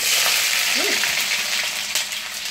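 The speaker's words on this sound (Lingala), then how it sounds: "mafuta na biso ezwi moto siko toza kokalinga baépice na biso" Spices fry in hot oil for a Congolese tomato sauce, making a loud, steady, close sizzling hiss that runs throughout, with a brief faint voice partway through.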